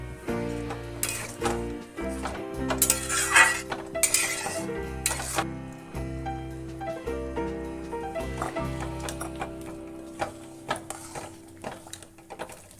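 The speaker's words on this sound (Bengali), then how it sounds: "ভালো করে ডালটা নেড়ে নেড়ে মিশিয়ে নিতে হবে।" Dal stirred and mixed in a pot after water and salt are added, with a spoon scraping and clinking against the metal in uneven strokes, loud and close, with some brief pauses.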